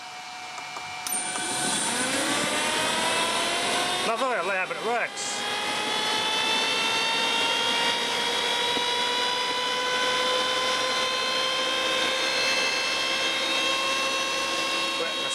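A homemade air raid siren built from a washing machine motor and pulley spins up with a rising wail, then holds a steady, loud multi-toned howl for the rest of the stretch, with someone speaking briefly near the start.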